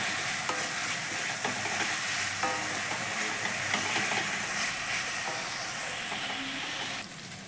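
Pointed gourd and spice paste fry in oil in a pan, a steady close sizzle and hiss with occasional stirring scrapes, continuous and fairly loud throughout.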